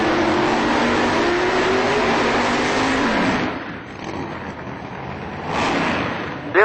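Racecraft-built Mustang drag car at an Outlaw Street Car Reunion event, a loud engine drone that holds steady, cuts off sharply midway, then gives a brief secondary rev before a final burst.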